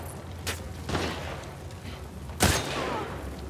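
Enemy gunfire in The Last of Us Part 2, a few sharp muffled shots and booms spaced unevenly across a few seconds over a dull game backdrop, with no speech.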